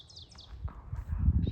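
A bird on the Appalachian Trail gives a few high, thin chirping calls in quick succession, fairly close, over low rustling and rumbling background noise.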